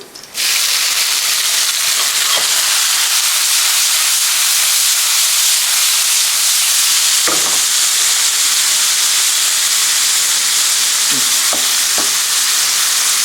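Tomatoes hit a hot pan for shakshuka and sizzle in a loud, steady hiss that runs the whole time, with a few soft stirring clicks and knocks against the pan.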